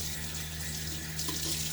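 Running water fills a sink steadily as a shaving brush is set back to soak, a continuous close splashing rush with no pauses.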